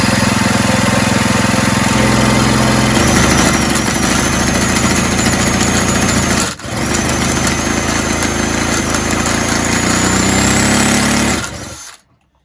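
An old 1970s Puch E50 moped's two-stroke engine running after starting, a loud, buzzing, close drone that holds steady with a brief dip midway before cutting out at the end.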